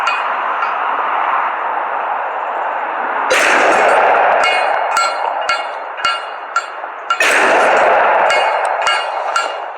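Smith & Wesson M&P 2.0 pistol in 10mm firing hot Hornady Custom 155 grain XTP rounds: two loud, sharp shots about four seconds apart, each ringing out over a constant rush of background noise.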